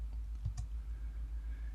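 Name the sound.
typing on a computer keyboard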